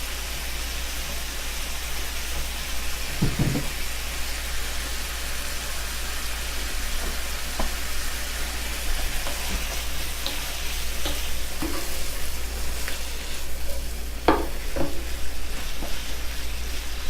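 Beef sizzles steadily in a hot pan while stir-frying for a long stretch, a constant crackling hiss with occasional clinks and stirring noises.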